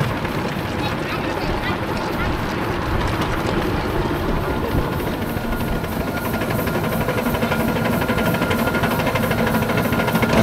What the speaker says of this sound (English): Now the engines start to work on this short section, this gradient here, not very steep, but enough.